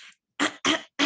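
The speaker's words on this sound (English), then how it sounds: "Sorry, I need to clear my throat." Three rough, bursty throat-clearing sounds close to the microphone, separated by brief silences, after a short breathy sound at the start.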